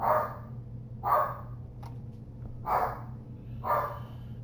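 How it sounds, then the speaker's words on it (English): A dog barks four times at a steady, spaced pace indoors, the mid-pitched barks fairly close and clear over a low background hum. "My dog is freaking out."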